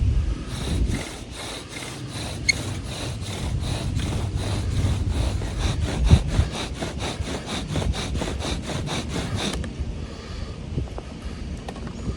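A bow drill working against a massive old southern red oak gives a rapid, regular back-and-forth rasp of about twenty strokes that stops near the end, leaving faint outdoor background, close and with no talk.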